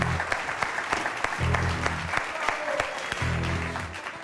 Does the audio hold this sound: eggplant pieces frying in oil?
no